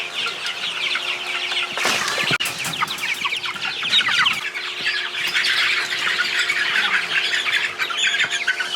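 A flock of meat chickens clucks and squawks steadily while being herded toward pasture, a dense chorus of close overlapping calls with a brief louder flurry early on.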